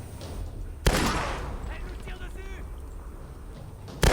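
Gunfire in the Tomb Raider video game, a loud sudden burst of shots followed by a sustained noisy rush of battle sound and another burst at the end, with faint talk underneath.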